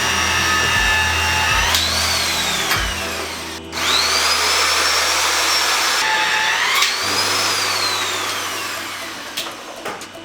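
A power wrench tightens TS bolts on structural steel reinforcement during building remodeling, a loud whining motor rising and falling in pitch through two long bursts with knocks and a brief pause between, no talk.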